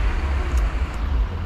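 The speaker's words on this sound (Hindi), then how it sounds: "यहाँ पर काफ़ी ज़्यादा ट्रैफिक लग गया।" Congested road traffic near the bridge at Umiam Lake on the Guwahati to Shillong road in Meghalaya gives a continuous low engine rumble, close and steady, with no voices.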